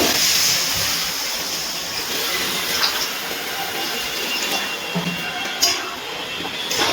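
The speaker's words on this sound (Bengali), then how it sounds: "এবার এর মধ্যে দিয়ে দিচ্ছি কিছুটা জল।" Water poured into a hot pan of fried spiced potatoes and prawns gives a steady, loud hissing sizzle with a few faint metallic clinks.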